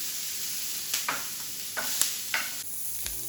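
Garlic and fresh thyme sizzle in hot butter in a pan, a soft continuous fry hiss broken by a few light stirring scrapes and clicks.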